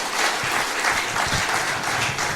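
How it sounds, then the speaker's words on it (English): Loud, dense applause from a debate audience at a senatorial by-election event in Lofa County, a continuous roar of many hands clapping with no pauses or speech. "Please give them a hand of applause"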